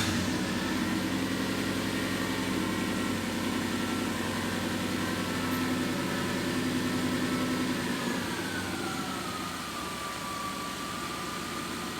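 A rebuilt car engine, said to sound like a 79 Series Land Cruiser, idles steadily and loudly up close with a low, even drone, its pitch sagging slightly toward the end; no one speaks.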